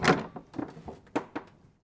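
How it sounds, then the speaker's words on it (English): A door opens with a heavy thunk followed by a few softer knocks and rattles of the latch and frame, close and brief before falling silent. "She opened the door"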